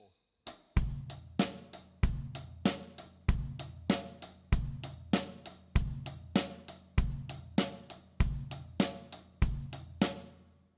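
A drum kit plays a steady groove with the hits landing on the off-beats, loud close thumps and cymbal crashes at an even rhythm of roughly two strikes per second, with nothing else heard.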